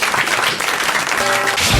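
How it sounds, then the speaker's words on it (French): A studio audience at a French radio talk show applauds in a dense, continuous wash of clapping, loud and close for the whole stretch. "on vous applaudit"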